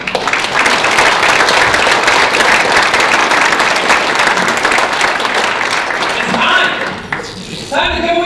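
An audience at a 2014 business awards ceremony claps loudly and continuously for several seconds, then the applause fades and breaks up into scattered claps and a few voices at the end.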